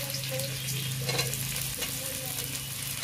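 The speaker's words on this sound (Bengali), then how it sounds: "পেঁয়াজটা আমার ভাজা হয়ে গেছে" Chopped onion fries in oil in a pan with a soft, steady sizzle, broken by occasional scraping stirs, close up and fairly quiet.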